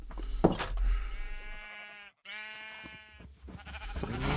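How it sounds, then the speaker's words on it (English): Sheep in the Minecraft video game bleat repeatedly, several loud, close wavering calls one after another with brief pauses, heard alone without talk. "You've let the sheep out!"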